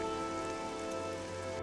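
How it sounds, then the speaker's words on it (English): Steady rain falls in the video game Morrowind, a soft, even hiss of drops on the ground, held at a constant level over a low sustained ambient tone. "Get in out of the loud rain."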